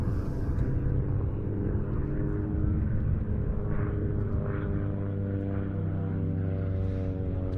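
An XA42 aerobatic propeller plane flies a display at an air show, giving a continuous droning engine hum with a steady harmonic buzz that holds at moderate distance while it rolls away.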